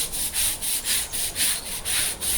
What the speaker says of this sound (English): I'm going to apply this with a hard bristle dipping brush and give it a good scrub